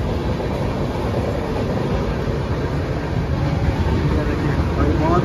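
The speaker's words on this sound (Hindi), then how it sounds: "बहुत फास्ट ट्रेन हमारी चल रही है।" A Humsafar Express passenger train runs fast, a steady, continuous rumble and rush heard from inside the coach, close and even in loudness throughout, with no distinct voices standing out.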